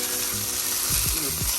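Garlic butter shrimp and broccoli cook in a flat pan with a steady, loud, dense sizzle throughout, a few low knocks and clatters rising briefly near the end, no talk.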